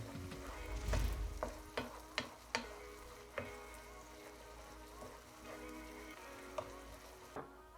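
Vegan taco filling with onions sizzles and browns in a hot pan, a continuous crackling fry broken by repeated sharp scrapes and knocks of stirring, close and clear.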